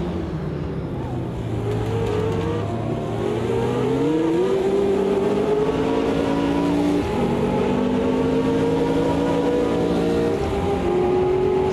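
A race car engine in the Automobilista 2 racing game drones and climbs steadily through high revs along the Mulsanne straight, holding a long sustained pitch with brief shift steps, loud and close, with no talk over it.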